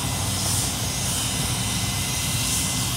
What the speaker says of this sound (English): My future plane right there.